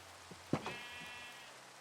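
A single sheep bleat from Minecraft sounds close by, one short wavering cry over a quiet game background.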